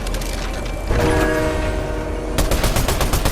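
A train in the video game Fortnite, a loud rumbling rush with a sustained horn-like tone rising over it, followed by sharp rapid gunfire-like bursts close by.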